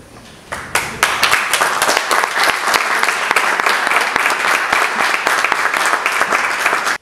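Audience breaking into applause at a talk, a sudden onset of many hands clapping that stays loud and dense, with a few sharper nearby claps, then stops abruptly.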